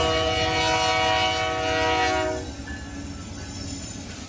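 Canadian Pacific freight CP112, bound from Port Coquitlam toward Montreal, passes with a loud, sustained horn blast over heavy rumbling that cuts off midway, leaving the steady roll and rattle of rail cars going by.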